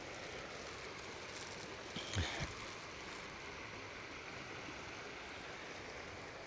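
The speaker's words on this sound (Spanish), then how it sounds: "Pues aquí llegamos al río." Broadband rushing of a mountain river, steady and continuous with a faint brief thump partway through, no talk.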